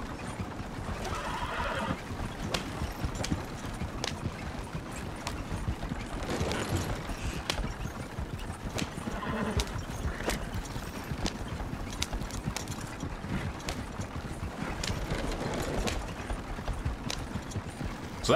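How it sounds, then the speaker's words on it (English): A horse gallops with a steady clip-clop of hooves and neighs now and then in the Red Dead Redemption 2 Online video game, with mechanical clicks mixed in throughout. "Go, horse."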